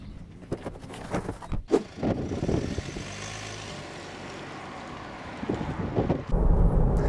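Land Rover Freelander 2 4x4 on the move, heard mainly as rushing wind buffeting and a low road rumble, with louder gusts at the start and end.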